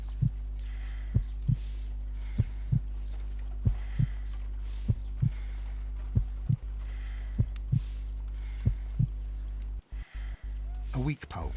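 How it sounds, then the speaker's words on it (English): A slow, steady heartbeat in the Sherlock Holmes Crimes and Punishments video game: about ten soft, deep thumps evenly spaced over a low constant hum, ending in a brief flurry of noise. "I need to concentrate and count the heartbeats."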